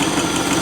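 A NATO 110 V8 engine idles steadily with its carburettor choke fully open, about 700 rpm, giving a brief, even low-pitched throb heard close up with no other sounds.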